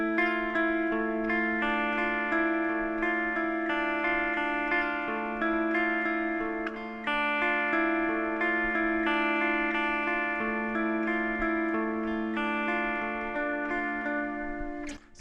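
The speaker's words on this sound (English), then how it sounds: "There's a little clean guitar part." Clean electric guitar part from the second verse, played as sustained chiming notes with effects and reverb. It stays even and continuous with no talking.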